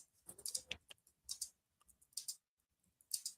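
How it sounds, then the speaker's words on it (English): Short, irregular bursts of clicking keys on a computer keyboard, close and quiet, with gaps between quick clusters of keystrokes and no talking. "I'm typing back to someone who understands."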